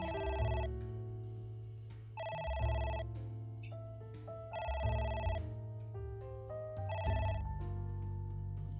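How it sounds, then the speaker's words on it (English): A telephone rings in AI: The Somnium Files, a video game, sounding in four long electronic bursts separated by short gaps, loud and steady with no talk over it. "It won't stop ringing."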